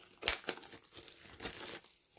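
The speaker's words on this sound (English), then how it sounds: "Right, let's get this plastic off." Plastic shrink wrap crackles and tears as it is peeled off a holographic silver tarot deck, a close run of sharp crinkling bursts over about two seconds.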